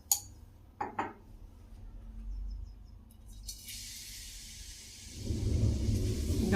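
Desi ghee and homegrown carrots in a pan: a few metal clinks and a quiet stretch, then a steady frying sizzle rises and grows louder to the end.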